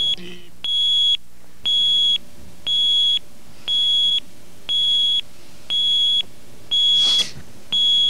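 A high electronic beep repeats steadily, about once per second, each tone held briefly with short gaps, loud and clear with no talk.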